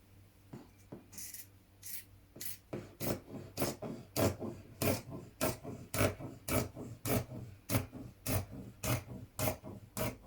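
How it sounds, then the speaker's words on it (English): Scissors cut through the fabric of a dress being refashioned into a top, giving a steady run of crisp, evenly spaced snips close by with no talking. "So I'm just going to cut that amount away now."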